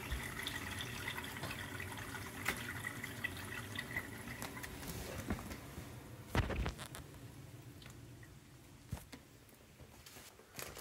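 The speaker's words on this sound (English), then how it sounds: "you can hear these filling up with water" Water trickles and gurgles quietly as an APEC reverse osmosis drinking water filter tank fills, with occasional drips and soft clunks, steady and faint without talking.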